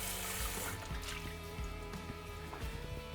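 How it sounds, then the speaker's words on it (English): Water running and splashing as a pan is rinsed clean in a kitchen sink after cooking shallots in vinegar and wine, a steady close trickle with clinks of the pan throughout. "So now I clean my pan quickly."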